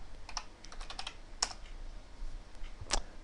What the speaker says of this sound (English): we're going to type Java C, and then you're going to simply type in the name